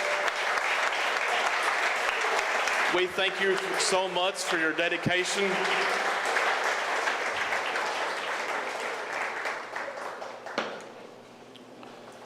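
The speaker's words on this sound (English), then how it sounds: "Whether you're in the audience, students, please applause." Audience applause at a high school scholarship awards ceremony honors service members standing in the crowd; steady clapping fills the hall for about ten seconds, someone speaks over it midway, and the sound fades toward the end.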